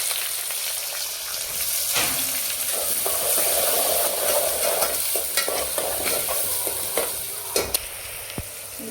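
Peanuts with cumin and split lentils frying in oil in a pan, a close, steady sizzle and crackle with scraping stirs and occasional sharp clinks of the spoon against the pan.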